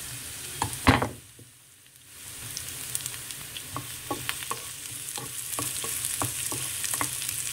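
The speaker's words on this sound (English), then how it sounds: "Okay, add in the curry leaves as well." Curry leaves hit hot oil in a sambar pot, a faint clatter then a steady low sizzle with soft stirring clicks scattered through.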